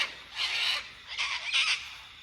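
A cockatoo squawking in a foggy morning garden: harsh, raspy screeches in three or four overlapping bursts, fairly close and loud, with no talking over them.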